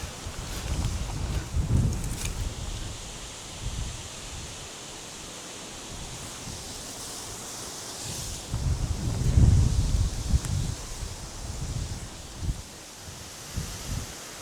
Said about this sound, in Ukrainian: Вітер лютує.